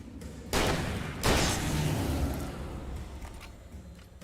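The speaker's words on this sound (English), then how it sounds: "Taken with a single flashbang." A flashbang detonates in the video game Alan Wake, two heavy booming blasts in quick succession, each followed by a long rumbling decay, loud and close with no voices.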